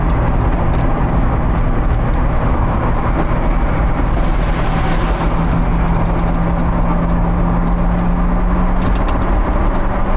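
A Mosler MT900S with a 750 hp twin-turbo LS7 and a carbon body of about 1950 lbs roars continuously and loudly as it pulls on part throttle with the windows down. A deep droning engine tone holds steady, and no one speaks.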